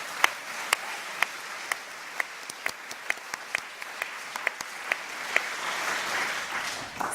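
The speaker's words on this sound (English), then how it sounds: "Please give them all a big round of applause." An audience applauds a panel in a hall, a steady wash of clapping at moderate distance with a few sharp, close individual claps standing out, and no voices over it.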